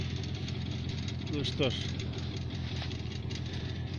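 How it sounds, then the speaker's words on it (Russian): An engine idles while warming up before setting off on a November fishing trip, a steady low rumbling hum running throughout while someone speaks briefly over it. "двигатель греется, мы сейчас поедем."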